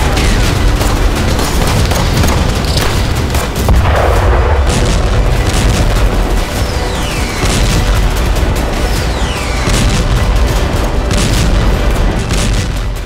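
Continuous loud rumbling booms and crackling bursts, like distant explosions and gunfire, fill the whole stretch with no voices; an explosion in Tehran, Iran.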